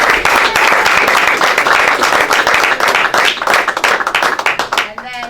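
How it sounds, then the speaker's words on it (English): A crowd at a county freeholder meeting applauds to honor the Atlantic County 2019 Teacher of the Year, with dense, loud, sustained clapping that thins out toward the end. "Let's have a round of applause for that."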